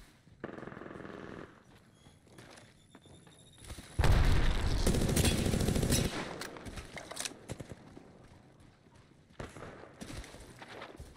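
Gunfire in the battle royale game Apex Legends comes in scattered bursts, with a loud, dense stretch of shots and impacts in the middle and sparser pops either side.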